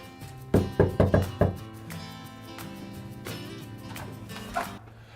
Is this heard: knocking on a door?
yes